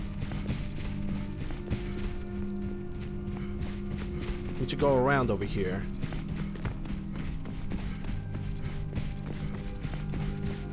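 Horse hooves clop in a steady walking rhythm in the video game Skyrim, an ongoing clatter under a voice talking, with a brief whinny-like sound partway through.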